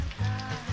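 Super thin slices of ancho chili sizzle and fry steadily in a hot pan, a close, even crackle with no talking over it.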